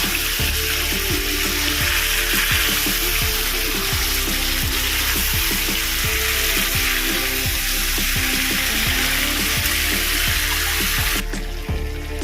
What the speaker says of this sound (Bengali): চিকেনটা হালকা করে ভেজে নিন